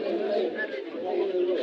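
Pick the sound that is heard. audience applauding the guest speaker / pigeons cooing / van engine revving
pigeons cooing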